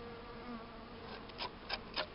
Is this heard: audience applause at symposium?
no